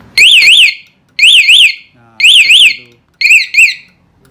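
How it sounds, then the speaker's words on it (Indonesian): A motorcycle anti-theft alarm blares in four loud, close bursts, each a rising-and-falling electronic siren warble with short gaps between, the last burst split into two quick pulses. "otomatis alarm ini akan berbunyi seperti ini"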